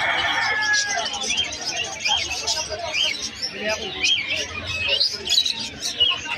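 Zebra finches, including snow white birds, chirp and tweet in quick, overlapping bursts at the Malabon pet market, with a busy background murmur and voices underneath.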